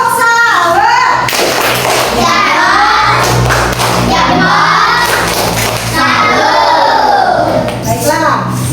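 A group of children performs the tepuk sawer clapping routine, with rhythmic claps and thumps under loud chanted voices throughout.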